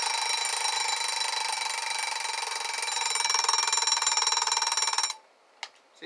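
A 1964 Westclox wind-up alarm clock rings its bell in a loud, close, continuous metallic clatter for about five seconds, then stops abruptly, leaving a few faint mechanical clicks.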